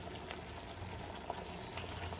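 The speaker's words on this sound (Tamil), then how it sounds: "நல்லா கொதிக்க விட்டுங்க எண்ணெய் பிரியிற அளவுக்கு இது கொதிக்கட்டும்" Leftover chutney gravy bubbles away in a pan, a steady, quiet simmer with a soft hiss and occasional small pops throughout.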